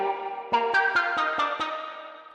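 A counter melody one-shot for a beat, processed with RC20 distortion, wobble and reverb: six evenly spaced plucked notes ring out over a sustained, washy pad tail.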